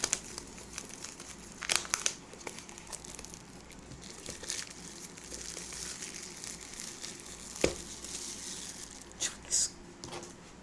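Packaging is peeled and crinkled off a OnePlus Bullets Wireless Z box, with close crackling plastic and sharp tearing bursts under soft speech.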